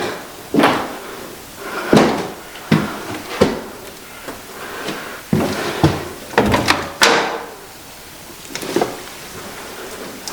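Door in an old, oddly laid-out house being opened, with a series of sharp knocks, creaks and clunks of handle and wood, fairly close, spread irregularly across the stretch without any voices.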